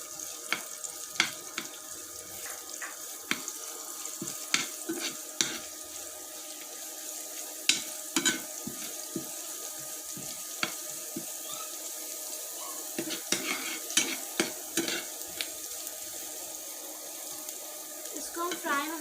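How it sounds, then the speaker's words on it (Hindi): Ginger and garlic fry in a pan for onion kachori, giving a steady low hiss dotted with sharp crackles and pops over about twenty seconds, with a voice speaking at times. "अब हम इसमें डाल देंगे जिंजर, देन गार्लिक और इन तीनों को हम फ्राई कर लेंगे."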